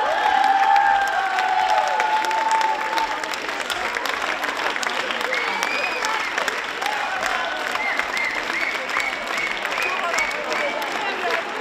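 Audience applause at a Hungarian women's carnival show, dense sustained clapping and crowd noise with cheering, loud and continuous, with voices calling out over it.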